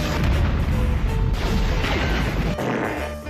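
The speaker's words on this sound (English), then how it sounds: "Explosions." Loud explosion and crash sound effects in a VHS rental promo, a dense continuous burst of booms and debris lasting a few seconds, with no talking.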